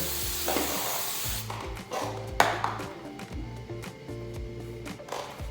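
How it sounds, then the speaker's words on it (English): A short hissing burst of hairspray on a wig near the start, followed by quieter rubbing and handling sounds with faint clicks. "I'm gonna give it a little spray."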